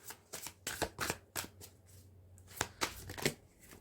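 Tarot cards are shuffled by hand in a quick run of crisp riffling flutters, a short pause and then another burst, close and fairly quiet, with no voice over them.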